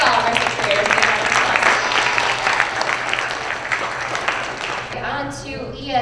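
Applause for sixth graders at a school Student of the Month assembly, a steady crowd clapping that fills the room for about five seconds before fading out, with a voice speaking near the end.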